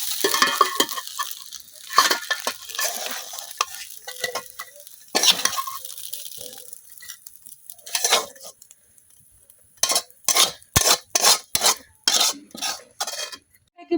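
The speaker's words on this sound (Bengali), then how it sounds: "আমি কিন্তু মাছের ডিমটা হালকা একটু ভাজা নিচ্ছি আগে" Fish roe lightly frying in oil in a pan, with intermittent scraping and stirring clatter of a utensil against the pan, ending in a quick series of rhythmic taps, close up and without talking.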